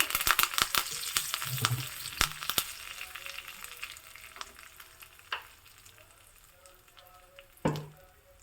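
Turmeric powder and curry leaves fry in hot oil for onion chutney, a close, crackling sizzle with sharp pops and stirring clatters that gradually calm to a quieter fizz.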